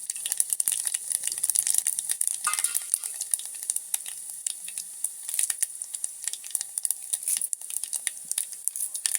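Cumin seeds fry in hot oil in a pan for a chutney, giving a loud, dense, steady sizzle with crackling pops throughout and no voices.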